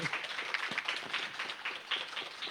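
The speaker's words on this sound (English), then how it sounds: "Please join me in giving a big round of applause to Trung Le Nguyen for writing this book for us." Audience applause for a visiting book author fills a hall, steady scattered clapping heard faintly at a distance for a couple of seconds without talk.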